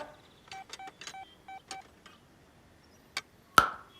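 A telephone being dialed gives a short series of two-tone keypad beeps in an uneven rhythm, clear and close, with a couple of clicks and a sharp clack near the end in a quiet room.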